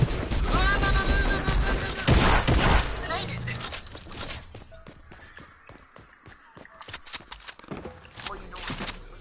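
Gunfire in Fortnite: rapid sharp shots and cracks scattered through the clip, loud at first, then sparser and quieter, mixed with other game sounds under excited talk.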